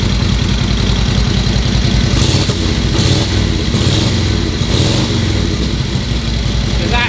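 Vintage Harley-Davidson motorcycle engine running close by, a loud steady idle with a rhythmic lumpy beat and a few brief revs in the middle.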